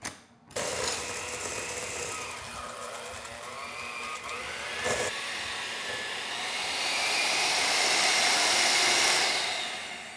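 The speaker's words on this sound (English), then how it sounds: "I'm going to use my hand whisk. My hand beaters." Electric hand beaters whir steadily through batter for meal-prep baking, a continuous motorized drone after a brief start that grows slightly louder and brighter toward the end before easing off.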